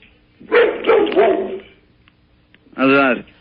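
A dog named Max barks over a phone line, a burst of several rough barks followed after a pause by one drawn-out, tonal howl-like bark, thin and telephone-filtered.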